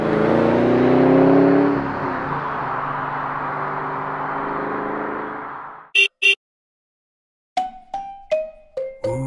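A car travelling on a long road trip from Mostar, Bosnia and Herzegovina, back towards Croatia; steady road and engine noise for about six seconds, then a brief pair of clicks, a pause, and a few sharp short knocks at the end.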